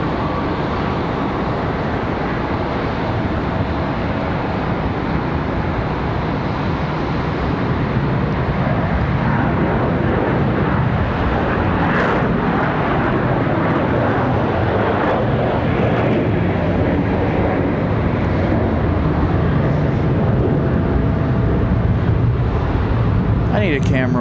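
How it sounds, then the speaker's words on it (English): Boeing 737-800 airliner on its takeoff roll at Charlotte Douglas airport, a steady, loud broadband jet engine roar that holds for the whole stretch with a slight swell midway, heard from nearby outdoors. "Another 737-800 takeoff."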